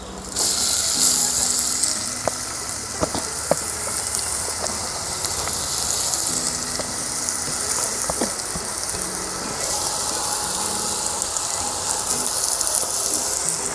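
Chopped brinjal leaves dropped into hot coconut oil in a clay pot crackle and sizzle steadily, with a loud burst near the start and scattered sharp pops and clinks through the sustained frying.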